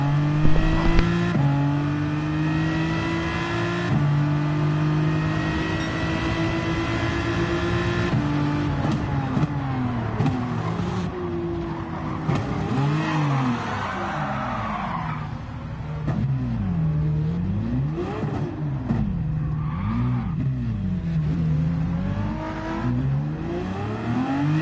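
Race cars in the Gran Turismo 7 video game rev and accelerate at a race start, engines droning steadily, then climbing and dropping in pitch through gear shifts, with tire squeal mixed in.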